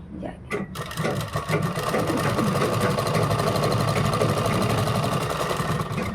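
Close sewing machine stitching a kurta, running in one continuous fast mechanical whir after a brief start, loud and steady.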